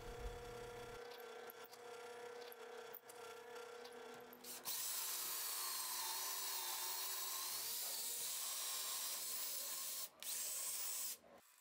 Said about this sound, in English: I will drill the holes and then use a regular drill with a drill bit